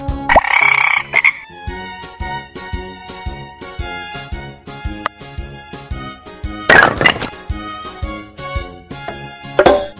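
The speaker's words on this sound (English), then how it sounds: "Frog." A cartoon frog croaks repeatedly as a sound effect in a kids' puzzle game, rapid loud rhythmic croaks over plucky game music with a couple of brief bright chime bursts.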